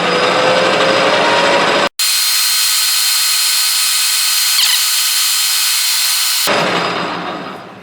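A metal lathe takes a skim cut along the outside of a metal part on a spherical turner kit build, giving a loud, steady whirring hiss. It drops out for an instant, returns, and narrows to a duller hum near the end.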